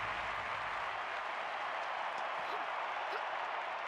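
Steady crowd applause and cheering at a diving event in a London 2012 Olympics video game, a dense continuous wash of clapping held at even loudness throughout.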